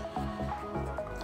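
Hand-pumped oil spray bottle squirting oil into an air fryer basket during home cooking, heard as a few quick wet squishing spritzes in close succession.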